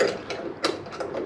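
A hand ratchet tightens a car mirror relocation bracket in a short burst of close clicking.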